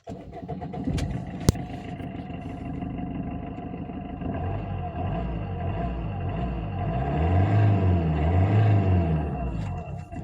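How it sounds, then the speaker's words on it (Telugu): A 2016 Maruti Swift Dzire VDI diesel with 1,22,000 km on it cranks and catches, then settles into a steady, close diesel idle with a low rhythmic throb that swells slightly toward the end. "సో వెహికల్ కూడా స్టార్ట్ చేద్దాం"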